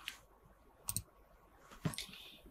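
Two or three sharp computer mouse clicks, including a quick double click, land while software is being downloaded and installed on a computer; the clicks are close and crisp over a quiet room hiss.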